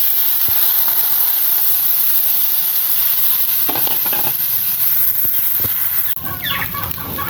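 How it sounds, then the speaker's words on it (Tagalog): Rice sizzles as it is sautéed in a pan with garlic, onion and ginger, a steady close frying hiss punctuated by a few sharp utensil scrapes and stirs, turning noisier near the end. "sangkutsa lang natin mga men tong bigas natin dito sa ginisang bawang, sibuyas at saka luya"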